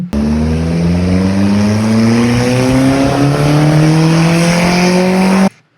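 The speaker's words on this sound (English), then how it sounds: "Bad exhaust from the Civic I saw walking home." A Honda Civic with a bad-sounding exhaust passes close by, its raspy, droning engine note rising steadily in pitch as it accelerates, loud and unbroken, then cutting off abruptly.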